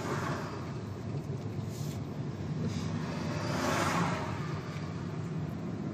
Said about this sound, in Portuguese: Acelera, senão o carro para.